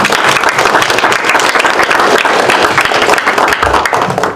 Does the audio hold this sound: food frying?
no